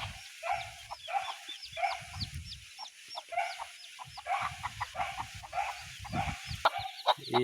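Several chickens cluck in a steady, busy chatter, with short clucks overlapping one another and some low rustling noises underneath.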